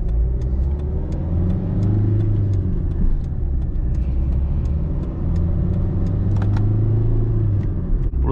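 A Kia Rio driving on a mountain road, heard from inside the car: a steady low engine drone and road rumble continue throughout, with small rattles and clicks over the top and no one speaking.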